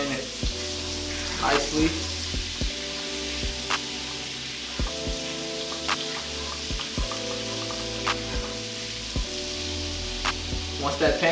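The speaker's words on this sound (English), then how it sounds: "we're gonna go ahead and add in the butter. That's gonna start to melt down in the pan" Butter melting and sizzling in a pan with leftover chicken juices, a steady close frying hiss broken by occasional pops, with a voice speaking briefly over it.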